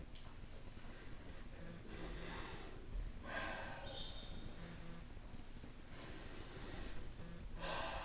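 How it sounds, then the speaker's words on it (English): Heavy, rhythmic breathing during a slow, controlled bodyweight exercise, with repeated sharp snorting exhales and gasping inhales, close and steady with no talk. "Now my breathing is like this."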